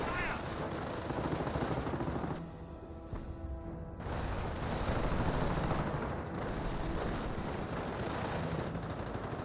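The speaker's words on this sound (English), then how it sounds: "30 cal trying to suppress and force back some of these forces" A .30 cal machine gun in the World War II strategy game Company of Heroes rattles off sustained bursts amid battle noise, pausing briefly before resuming rapid fire.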